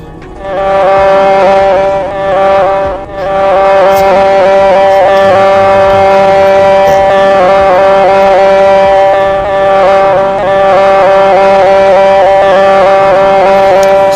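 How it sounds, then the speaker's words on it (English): A train horn sounds in a railway driving game as the train nears a station: steady, layered horn tones held almost continuously for about fourteen seconds, loud and close, with a few brief dips. "We're gonna blow the horn."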